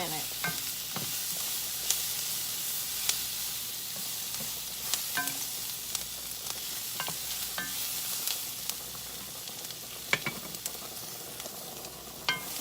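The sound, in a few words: onions frying and browning in a pan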